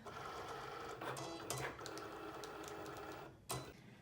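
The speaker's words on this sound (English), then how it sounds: "the machine's going to begin cutting" A Cricut cutting machine works through vinyl with a quiet, steady mechanical whir, broken by a few brief clicks and motor shifts as the carriage changes direction.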